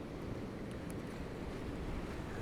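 Ocean waves wash in and draw back along a shore, a steady, loud broadband rush with wind buffeting the microphone and no voice.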